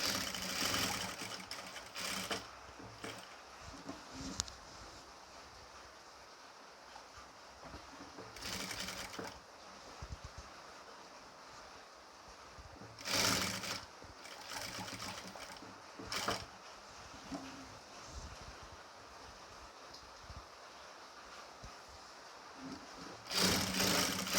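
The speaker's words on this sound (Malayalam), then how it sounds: "എന്നിട്ട് സ്റ്റിച്ച് ചെയ്ത് കൊടുക്കുക" A sewing machine stitching a neck design on nighty material, running in short, quiet bursts of mechanical whirring and clatter with pauses between them.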